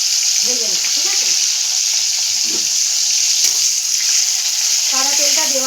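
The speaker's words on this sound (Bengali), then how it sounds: "ভালো করে পেঁয়াজটা আমি ভেজে নেব" Onions frying in white oil, a steady close sizzle filling the whole clip, with a few faint stirring and kitchen noises underneath and no voice.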